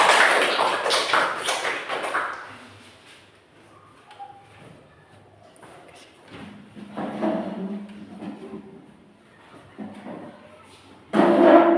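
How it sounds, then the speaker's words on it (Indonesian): Students in a classroom give group 3 a short round of clapping for about two seconds, followed by quieter scattered taps and thumps in a mostly hushed room. "Tepuk tangan buat kelompok 3."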